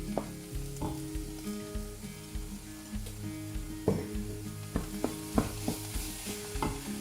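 Grated apples and onions sautéing in a pan for onion soup, a low steady sizzle with repeated rhythmic scrapes and knocks of a utensil stirring, close and fairly quiet.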